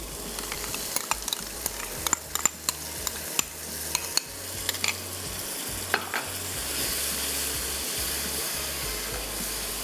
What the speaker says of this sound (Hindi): दही डाल के इतना भुने कि ऑयल थोड़ा अलग हो जाए और मसाला अच्छे से भुन जाए।